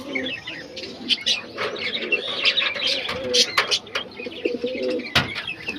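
Fancy pigeons coo in soft, throaty bursts close by, with scattered chirps and light fluttering in a busy, steady background.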